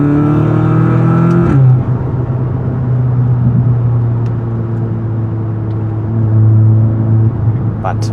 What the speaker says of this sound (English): it sounds so amazing with this downpipe. You also get some burbles from the exhaust